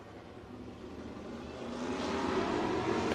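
Race car engines at Crawford County Speedway, a dirt track with RaceSaver sprint cars and late models, heard from a distance as a rising, building drone of several engines revving up before the green flag.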